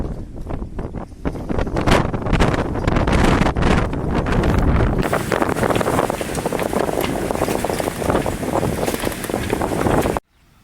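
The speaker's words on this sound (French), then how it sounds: "Aujourd'hui, il y a du ZEF. 32 nœuds annoncés." Strong wind gusting at about 32 knots across a marina buffets the microphone in a loud, continuous roar that intensifies midway before cutting off abruptly.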